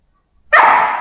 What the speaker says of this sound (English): as soon as he barks, he gets it